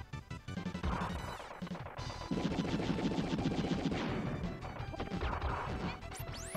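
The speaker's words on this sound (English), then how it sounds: "I'll drop the bomb." A bomb dropped in the video game Wild Guns, a loud crashing blast followed by a sustained roar of explosions and rapid hits layered with game music, fading at the end.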